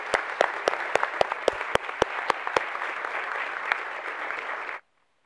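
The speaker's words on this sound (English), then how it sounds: "Let's give you a big round of applause." Audience applause at a school board meeting recognition ceremony, a steady wash of clapping with sharp individual claps standing out, lasting nearly five seconds before stopping abruptly into silence.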